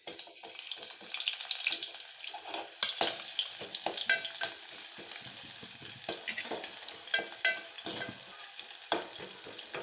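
Onions fry in hot oil in a pan for a drumstick curry, making a continuous crackling sizzle with scattered sharper pops and stirring scrapes, close and moderately loud.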